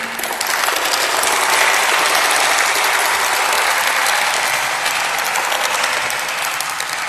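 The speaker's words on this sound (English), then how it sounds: "big round of applause for Congresswoman Nguyen" A crowd at a Vietnamese human rights anniversary gathering in Washington, D.C. gives a big round of applause for Congresswoman Nguyen, loud dense clapping that stays steady for several seconds before easing slightly.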